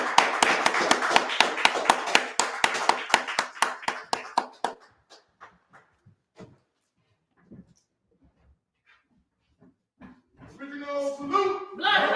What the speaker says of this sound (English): give a round of applause for our founder